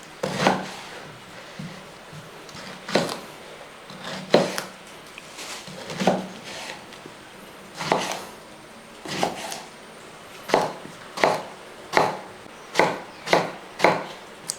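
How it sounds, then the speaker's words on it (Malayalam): A knife chops eggplant on a board in a dozen or so distinct, fairly soft strokes, spaced irregularly at first and then quickening into an even rhythm near the end, with no speech. "ഇനി ഇത് നമുക്കൊന്ന് അരിഞ്ഞെടുക്കാം."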